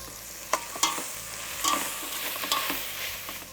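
Ingredients sauté in a pan while being stirred, producing a gentle sizzle broken by several scraping strokes and light knocks of the utensil against the pan, close and moderately quiet, with no talk.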